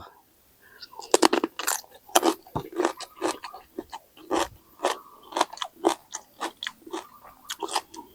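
Close, crisp crunching as someone chews a big apple snail dipped in seafood sauce, with repeated loud bites and crackly chews in a steady rhythm for several seconds.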